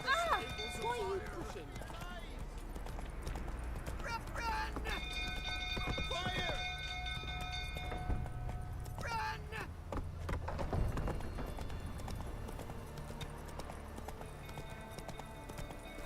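Roach, the horse in The Witcher 3, galloping in the game, repeated hoof clip-clops close by with a short whinny and in-game music tones, while people talk over it throughout.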